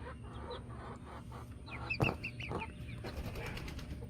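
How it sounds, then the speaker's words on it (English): Baby chicks about a week old peep in short, high, repeated chirps close by, with a brief louder bump partway through and a steady low background hum. "that's the update on the baby chicks"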